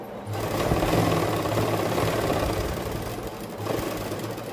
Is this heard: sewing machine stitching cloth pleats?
yes